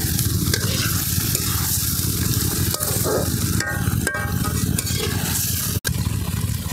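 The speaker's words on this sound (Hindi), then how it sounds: "अब हम मसाला पूरा फ्राई कर रहे हैं और हमारा मसाला फ्राई हो रहा है।" Onion, garlic and spice masala fries loudly in a pan, a dense continuous sizzle broken by several scraping strokes of a stirring spoon.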